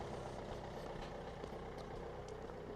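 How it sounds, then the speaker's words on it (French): Idling vehicle engines warming up on a morning street, a steady low rumble that runs unbroken and moderately loud with no voices over it. "C'est le matin, c'est les moteurs qui chauffent."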